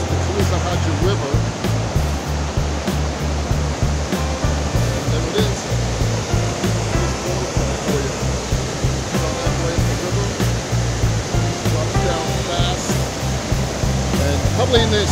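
A waterfall called Bust Your Butt Falls on the Coosawhatchie River pours in a steady, loud broadband roar that fills the whole stretch without a break, with someone talking faintly beneath it.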